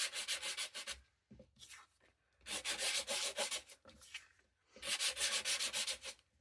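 Paper edges on a Flower Emporium album page are roughed up with a sanding tool, giving three bursts of close, brisk scratchy rubbing separated by short pauses.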